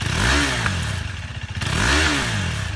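A single-cylinder motorcycle engine revs loudly up and back down twice, with a rough, pulsing throaty tone close by.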